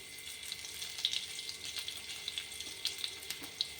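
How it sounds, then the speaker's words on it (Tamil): Ajwain and cumin seeds fry in hot oil with a quiet, steady sizzle and a scattering of small crackles and pops heard up close. "பொரியட்டுங்க ஓமமும் ஜீரகமும் பொரியட்டும்"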